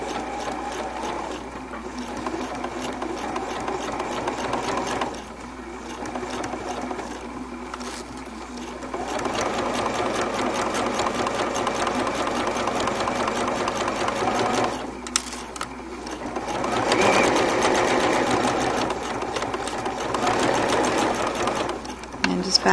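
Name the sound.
sewing machine edge stitching elastic casing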